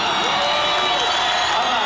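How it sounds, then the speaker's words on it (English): A large arena crowd at a 1996 USA vs Cuba women's volleyball match cheers and roars in a steady, loud, sustained wash, with possible clapping mixed in. "Listen to this crowd."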